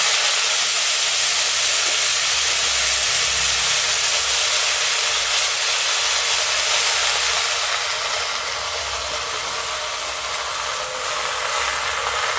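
Drained leafy greens dropped into a hot wok of oil with fried nigella seeds give a loud, steady, broad hissing sizzle that holds for the whole stretch and eases slightly toward the end, with no talk.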